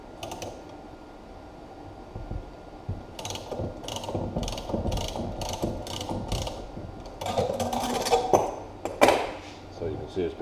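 A ratchet tightens nuts on threaded rod with a socket and cap, pressing a rear wheel bearing into a Datsun 260Z stub axle housing, producing close bursts of rapid clicking strokes, with some clunks and a faint voice in the background.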